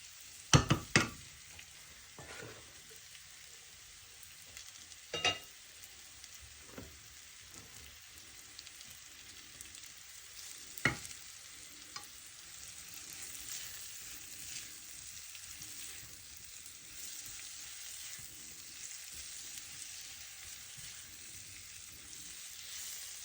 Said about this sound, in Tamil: பூசணிக்காயில் சேர்கிற மாதிரி நல்லா பிரட்டி விடுவோம்.